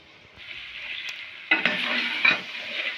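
Chicken drumsticks are dropped into masala in a pan and stirred while frying for an aloo tangri dish, a steady close sizzle that jumps louder as stirring begins.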